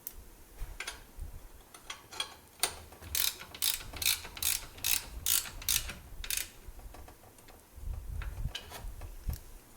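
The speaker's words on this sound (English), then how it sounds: "We'll go ahead and take our ratchet and snug down this 12mm bolt to hold the adjuster in position." Hand ratchet snugging a 12mm bolt on a Subaru drive belt adjuster: a run of sharp, close metallic clicks in quick succession, loudest in a steady burst mid-clip, with lighter ticks before and after and no talking.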